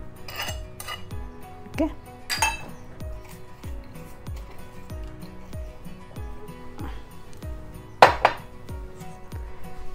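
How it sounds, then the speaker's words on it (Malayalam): Green chilies crushed with the back of a utensil while making Punjabi dhaba chicken curry, a steady run of dull, evenly spaced knocks with a few sharper metallic clinks, and a brief word spoken partway through. "ഇതിൻ്റെ ബാക്ക് കൊണ്ടിട്ട് പച്ചമുളക് ചതച്ചത്"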